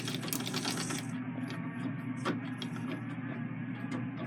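A treadle sewing machine runs with its bobbin winder engaged, adding drag, making a continuous mechanical whir with a light ticking rhythm layered over it, steady and close throughout.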